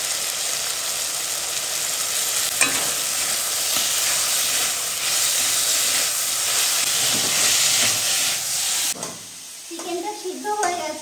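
Chicken stir-frying with tomato ketchup and soy sauce in a hot pan, a loud, dense, steady sizzle and hiss for most of the time that then drops suddenly, leaving softer clinks and scraping near the end.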